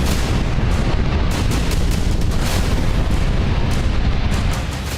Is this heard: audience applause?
no